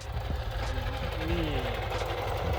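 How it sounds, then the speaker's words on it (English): A Jeep SRT engine runs with a failing supercharger bearing, a continuous rough, rattling mechanical clatter with a faint whine rising and falling, heard up close alongside some voices. "That motor does not sound healthy."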